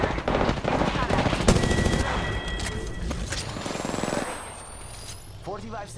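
Automatic gunfire in a Apex Legends round on PS4, loud bursts with clattering shots packed densely through the first four seconds before easing off, with a voice speaking over the action.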